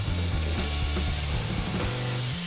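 Onions sizzling steadily as they fry in melted coconut oil, a loud continuous crackle with faint scraping from stirring, no voices.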